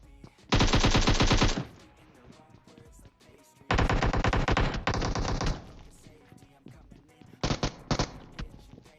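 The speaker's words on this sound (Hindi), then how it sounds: "अब वो भाई दबा के एकेएम तो चलाते हैं, लेकिन किस पे मेरे समझ नहीं आया।" An AKM rifle fires in PUBG Mobile in three loud, rapid automatic bursts, each about a second long, with quieter game ambience between them.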